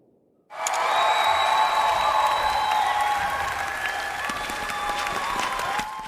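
Steady applause in a Final Fantasy VII Rebirth cutscene at the Gold Saucer starts after a brief quiet moment and holds at a strong level, with a sustained musical tone running underneath.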